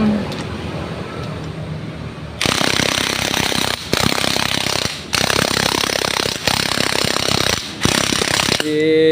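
An impact-style power tool unscrews star bolts on a Honda Vario scooter, firing loud, close rattling bursts of about a second each, separated by short pauses.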